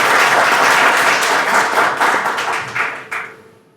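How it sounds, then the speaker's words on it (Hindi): Audience at a health talk held at the National Council for Cement and Building Materials claps loudly. The applause is sustained, then thins out and fades over the last second. "आप सबसे निवेदन है एक बार जोरदार तालियां बजा के एटलीस्ट इनका आभार कीजिए"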